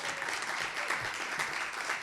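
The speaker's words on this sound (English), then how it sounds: "Let's give him an applause." An audience applauds an introduced guest at a panel event on Latino voter polling, a brief, fairly soft wash of clapping heard at some distance.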